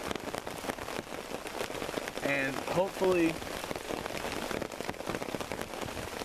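Steady rain patters on a tarp over a bushcraft camp in Texas, a continuous close hiss of drops throughout, with someone speaking briefly partway through.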